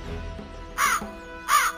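Two loud, harsh caws from a crow in a Hindi children's animated moral story, each call short and close, separated by a brief pause with faint background tones.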